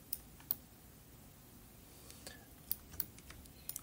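Computer mouse clicks while working in SketchUp come as sparse, faint, sharp taps, a few isolated clicks then a quick cluster near the end over quiet room tone.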